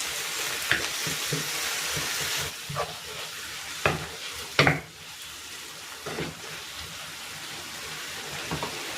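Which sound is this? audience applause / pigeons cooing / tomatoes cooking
tomatoes cooking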